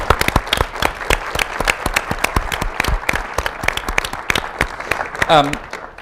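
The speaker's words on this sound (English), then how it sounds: "Let's give them a round of applause." Audience at a TEDx salon event clapping for visiting high school students, with sharp, distinct individual claps from a small nearby crowd and a brief voice speaking near the end.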